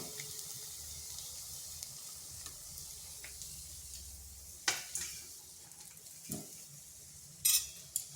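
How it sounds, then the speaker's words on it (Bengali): Semolina snacks fry in a pan with a faint, even hiss of oil, punctuated by a few brief clicks and taps near the end. "এইভাবে আমি সবগুলো ভেজে নিচ্ছি"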